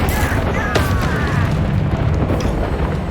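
The Bombarda blasting spell erupts in the Hogwarts Legacy game as a loud, dense roar of rumbling explosion noise, with swooshing magical streaks over it and no voice.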